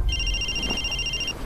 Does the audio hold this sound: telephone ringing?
yes